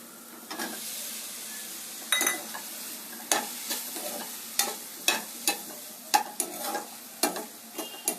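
Cauliflower florets fry and sizzle in a pan on a steady hiss, broken by repeated sharp stirring scrapes and clinks of a utensil against the pan at irregular intervals; no one speaks.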